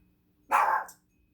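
A single sharp dog bark, close and loud, against an otherwise quiet room.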